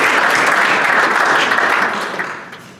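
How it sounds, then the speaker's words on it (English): Loud, dense applause from the audience at a Rotary meeting, a thick roar of many hands that tapers off toward the end. "I'd like a round of applause for the team at IU Southeast"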